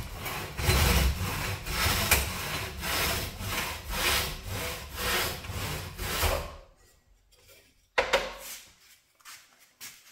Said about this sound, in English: I'm going to take it over to the miter saw.